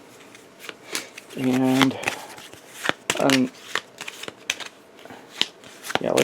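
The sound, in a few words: playing cards being placed and shuffled into a deck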